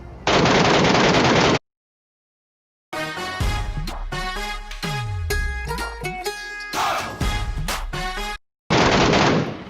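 Gunfire from the PUBG Mobile battle royale, in the Pochinki area, comes as loud bursts and single shots amid game noise and music, with a brief full dropout midway, and no one talks over it.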